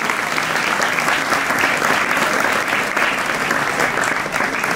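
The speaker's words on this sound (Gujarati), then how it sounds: "જોરદાર તાળીઓ જોરાવીએ." Audience applause at a hospital honour event, dense loud continuous clapping from a crowd that holds steady from start to finish.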